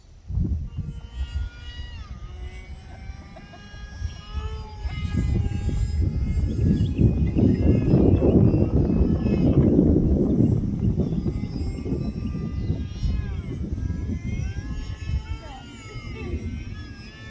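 An AeroScout S 2 RC airplane flies its first flight after a crash and repair, its engine drone swelling louder mid-pass and then easing off, with people talking over it.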